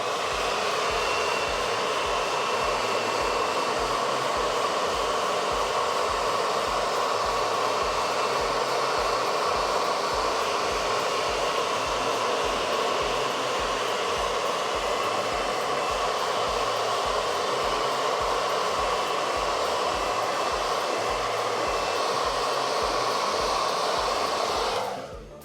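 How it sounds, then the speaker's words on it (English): A hair dryer blows steadily on a Warhammer 40k Tyranid Psychophage miniature during painting, a loud continuous whooshing hum that runs unbroken for the whole stretch and cuts off abruptly at the very end. "hair dryer going in."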